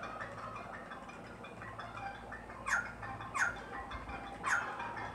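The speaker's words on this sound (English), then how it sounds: "Chicken." A chicken in Kingdom Hearts II Final Mix HD clucks three times in short, evenly spaced squawks over a steady game soundtrack, with no talking.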